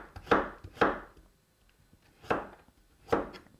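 A kitchen knife slices vegetables thinly on a cutting board with four crisp, close knocks. Two come quickly together, then two more follow after short pauses, with no talking.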